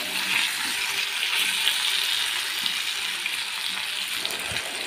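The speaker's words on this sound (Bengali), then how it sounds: "ওল আর আলুটা সুন্দর লাল লাল করে ভেজে নিয়েছি।" Elephant foot yam and potato pieces frying in a pan, giving a steady, close sizzle with faint stirring scrapes throughout and no talking.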